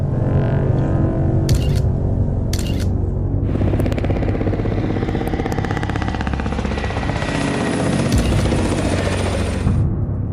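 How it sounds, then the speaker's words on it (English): A helicopter roars loudly close overhead, rotor chop thudding steadily, with a couple of sharp bursts early and a rising high whine before it cuts off. "the infamous black helicopters appeared, flying very close to his house."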